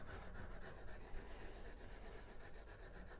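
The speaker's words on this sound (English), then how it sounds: "I'm just cutting that edge back at 90 degrees." An extra fine diamond stick rubs back and forth along the edge of a spoon scraper, squaring it at 90 degrees, a soft steady rasping stroke repeated continuously at close range.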